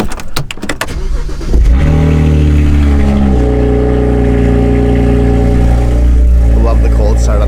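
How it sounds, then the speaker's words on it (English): A car engine cold-starts with a few cranking clicks, then catches and roars loudly, holding a high, steady fast idle up close; a voice is briefly heard at the start. "I love the cold start on this."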